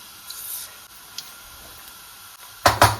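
Fennel and mustard seeds hit hot oil in a pan near the end, giving a sudden loud burst of crackling sizzle after a quiet, faintly hissing stretch.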